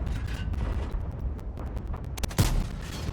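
A tank firing an armor-piercing shell in a video game: a single booming shot near the end, over a steady low rumble of engine and battlefield noise.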